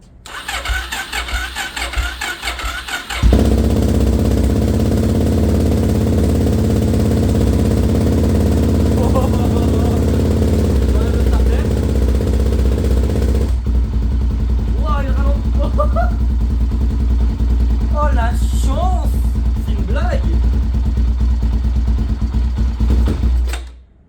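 Suzuki DRZ motorcycle with an FCR 39 carburetor cranking and starting on choke, then settling into a steady, loud, fast idle that holds for about twenty seconds before cutting off, with voices talking over it.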